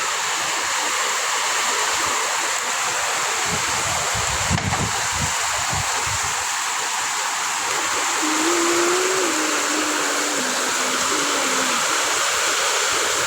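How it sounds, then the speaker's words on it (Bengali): Heavy rain roars steadily close by, with gusts of wind rumbling through in bursts early on and a faint wavering whine rising over the downpour later. "আমাদের এখানে প্রচুর পরিমাণে বৃষ্টি নামছে আল্লাহর রহমতে।"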